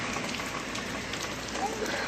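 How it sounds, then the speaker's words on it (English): Heavy rain pours outside a house porch, a dense, steady close hiss of drops hitting surfaces with no breaks, loud and constant across the short stretch. "So when I say it's raining, I mean like it's raining bad."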